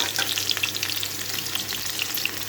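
Vegetables and onion fry in a pan for a light fish curry, a steady close hiss of sizzling oil with faint crackles and occasional stirring scrapes throughout.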